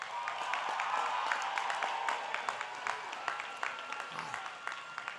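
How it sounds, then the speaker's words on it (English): A crowd at a high school graduation applauds steadily, a dense wash of many hands clapping throughout, with scattered sharper claps standing out near the end. "Let's give these graduates one more round of applause."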